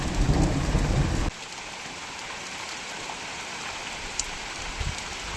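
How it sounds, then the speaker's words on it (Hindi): Heavy rain with thunder in the mountains of Kedarghati, a dense, steady downpour that starts loud with a rumble, then drops to a constant hiss with occasional drips. "बारिश की आवाज़ सुन रही हूँ।"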